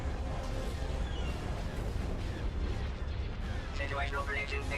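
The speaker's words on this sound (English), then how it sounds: "Explosion detected." Battle explosions and gunfire in the Star Wars game Fall of the Republic, a continuous rumble of blasts and bursts with a robotic game voice sounding over it.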